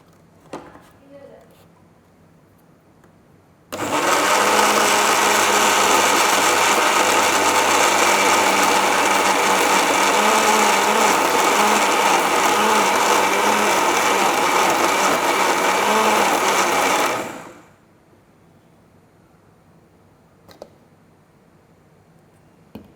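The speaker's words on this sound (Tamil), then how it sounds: "இப்போ இதெல்லாம் ஒன்றா போட்டு அரைச்சி எடுத்துடலாம்" An electric blender whirs on loudly, grinding milk with a few drops of vanilla essence in a steady, even roar for about fourteen seconds, then cuts off abruptly to near silence broken by a couple of small clicks.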